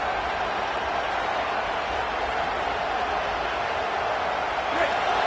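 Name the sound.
football stadium crowd noise, Miami vs Michigan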